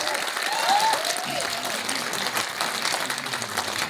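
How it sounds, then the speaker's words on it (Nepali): Audience applauds at a Nepali film's grand premiere, with steady, dense clapping filling the room and a brief faint whistle near the start, no talk over it. "अलि ठुलो ताली।"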